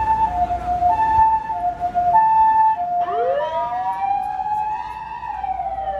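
A police car siren in Japan, loud and close, first alternating between two tones, then switching to a rising and falling wail.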